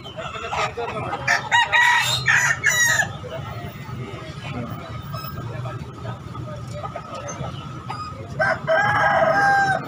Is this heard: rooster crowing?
yes